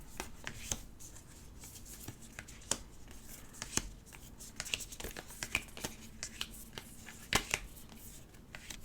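Color Cubes palette cards are handled and shuffled close up, giving soft repeated flicks, riffles and papery snaps in an uneven rhythm at a fairly quiet level.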